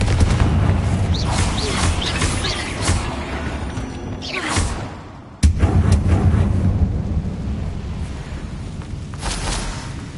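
Confringo spell blasts in Hogwarts Legacy, dense booming explosions and crackling bursts with a loud impact around the middle, layered over continuous game effects and music.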